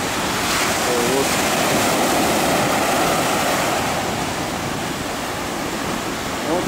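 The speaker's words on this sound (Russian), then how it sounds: "Так что смотрим на волны, слушаем шум волн, расслабляемся." Ocean waves crash and wash continuously on the shore at Lazurnaya Bay (Shamora) in Primorsky Krai, a loud, broad roar of surf with wind across the microphone and no pauses.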